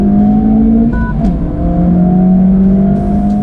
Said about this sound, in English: Let's do a 30 to 70 sprint and see if the Honda Civic Type R can beat some rather spicy cars